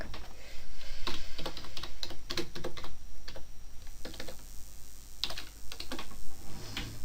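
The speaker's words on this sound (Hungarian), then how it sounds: "a billentyűzeteteken meg kell nyomni a print screen-t" Computer keyboard keys are tapped in quick irregular bursts of clicks for several seconds, close and clear, with no talking.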